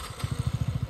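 A Yamaha MT15 BS6 motorcycle engine thuds in a quick, even pulsing beat, close and fairly loud, with no talking.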